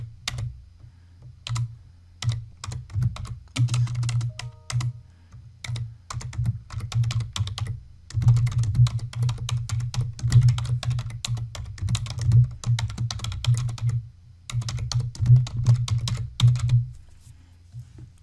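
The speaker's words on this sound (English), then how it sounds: "as you can see, the text, I can type in the body now." Typing on a computer keyboard while composing an email body, a steady run of close, crisp key clicks in bursts with short pauses, no voices.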